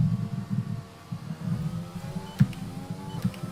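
An F1 car engine in F1 2020 at Silverstone, heard as a low, pulsing hum with uneven surges and a couple of short sharp clicks, fairly steady and moderately loud.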